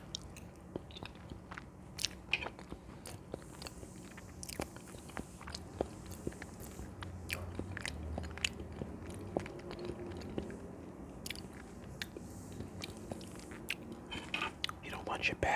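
Close, quiet chewing and biting of homemade sweet potato pie, soft crunches and moist mouth sounds repeating steadily, with faint whispery breaths in between.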